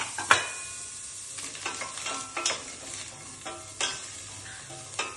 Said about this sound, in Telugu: ఆయిల్ లేదు అయినా ఇవి మంచిగా సాఫ్ట్గా ఫ్రై అవుతున్నాయి